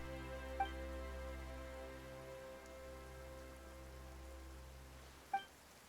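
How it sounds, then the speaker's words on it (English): Steady rain falling in the video game Genshin Impact, a constant soft hiss over a low tonal drone, with two brief faint chimes near the start and end. "Why is it raining all of a sudden?"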